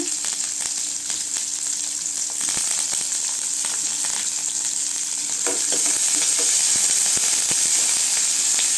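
Onions sauté in a pan for bottle gourd thokku, giving a loud, steady sizzle close by throughout, with scattered light clicks and scrapes from stirring.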